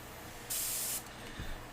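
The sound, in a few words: airbrush spraying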